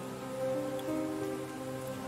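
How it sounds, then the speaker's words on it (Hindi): Rain falls in the horror video game Granny 3 as a faint, steady patter that runs unbroken over a low background hum. "आज ग्रैनी के घर में बारिश हो चुकी है"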